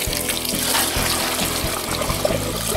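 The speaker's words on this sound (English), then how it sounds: "here's our 145 degree Sparge water going into the pot" Hot 145-degree sparge water pours steadily into a brewing pot while mashing grains for an Irish red ale, a continuous close splashing gush with no talk.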